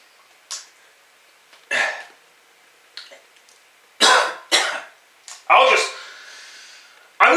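A person coughs repeatedly up close, a series of harsh, sharp bursts with brief gaps, some coming in quick clusters.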